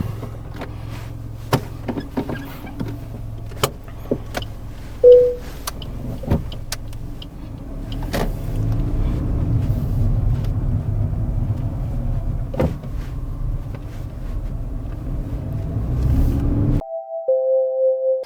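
A car pulls away and drives forward, its steady engine rumble building under road noise with a few faint clicks and knocks, then cutting to a brief electronic tone near the end; no one speaks.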